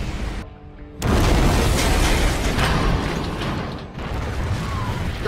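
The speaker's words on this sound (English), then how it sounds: "We have detected another nuclear missile launch." A nuclear missile strike in the StarCraft II: Heart of the Swarm campaign, a sudden massive roaring blast that swells into a long, dense rumbling wash of debris, loud and sustained with no voices.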